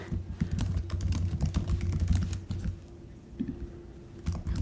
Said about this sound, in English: I'm typing in the icebreaker question for everyone right now.